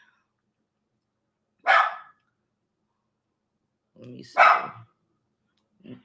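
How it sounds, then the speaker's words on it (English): A dog gives two sharp barks a few seconds apart, fairly close, with a short spoken remark between them in an otherwise quiet room. "The dog is barking at the door."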